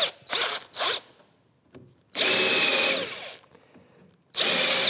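A hand drill runs in three separate bursts as it countersinks screw holes in a wooden workbench, each whine rising sharply, with short quiet gaps and small clicks between them.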